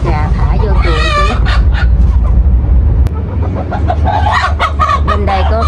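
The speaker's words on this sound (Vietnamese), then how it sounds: "Bây giờ bắt gà thả vô chuồng." Chickens cluck and squawk loudly and continuously while being caught by hand and moved into a new coop, with people talking throughout.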